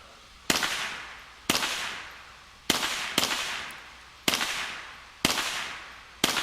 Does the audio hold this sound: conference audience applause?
no